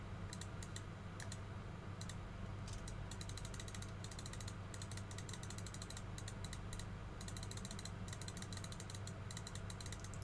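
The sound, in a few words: rapid mouse clicking while playing Yu-Gi-Oh Master Duel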